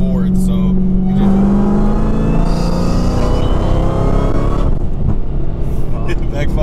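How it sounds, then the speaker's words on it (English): Supercharged Dodge Hellcat making over 900 wheel horsepower, roaring loudly from inside the cabin as it accelerates hard through the gears, with sharp backfire pops near the end and people talking over the engine. "It backfires."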